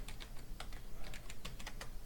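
Fingers type quickly on a computer keyboard while a web address is entered. The keystrokes come as a close, steady patter of light plastic clicks, with no voices.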